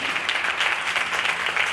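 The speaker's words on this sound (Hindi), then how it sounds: "रेवरेंड अनु जैकब, ताली बजाकर परमेश्वर के नाम को धन्यवाद स्तुति किया जाए" A church congregation claps in steady, dense applause close by, with a continuous rapid patter of many hands and no pauses.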